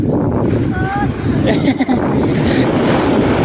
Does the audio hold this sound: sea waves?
yes